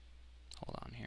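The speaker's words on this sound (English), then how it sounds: "press Control, left click." A computer mouse left click while editing post-process effects: a brief quiet click comes just before a voice starts speaking, faint and close.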